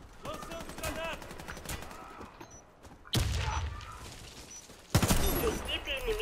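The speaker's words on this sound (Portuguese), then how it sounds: "Lançando granada." Grenade and gunfire in the shooter game Warface: sharp bursts of rapid shots and booms, with loud impacts at about three and five seconds, mixed with voices in the background.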